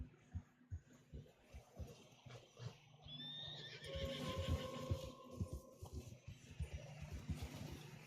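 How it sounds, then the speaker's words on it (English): Horses whinny and neigh in Red Dead Redemption II while trudging through deep fresh snow, with a few rising calls over soft, muffled hoof thuds and steady movement noise, fairly close. "Horses are struggling."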